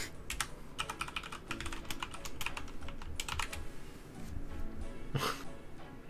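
Keys clatter on a computer keyboard during a RuneScape game, typed in short quick bursts with brief pauses between them, close and fairly quiet.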